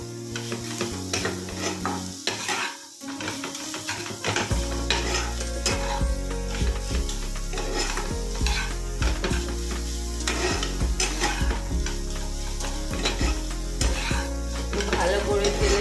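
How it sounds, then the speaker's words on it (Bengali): Spices and nuts frying in oil for a Bengali banana flower chop, a steady loud sizzle broken by repeated scraping stirs of a spatula against the pan, with a brief pause near the start before the frying resumes. "ভালো করে তেলে মশলাগুলো একটু কষানো হোক।"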